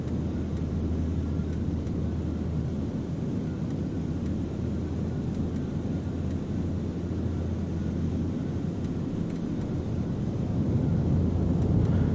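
In a Cessna 414 flight simulator, lowered landing gear adds a steady broad rushing drone of wind over the twin-engine hum, sustained throughout and growing slightly louder near the end, with no voices.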